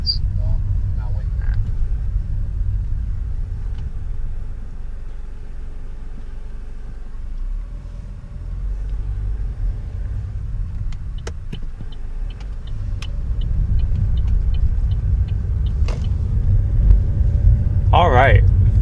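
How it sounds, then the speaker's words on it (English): A car passes on a road during tropical storm preparations, a steady low engine and tyre rumble that rises and swells toward the end, with talk in the background. "There's a car coming from the left."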